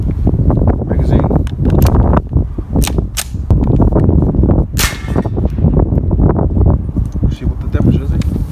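A .22LR rifle fires repeatedly at a steel camping plate outdoors, giving loud, sharp cracks at irregular intervals over constant wind and handling noise.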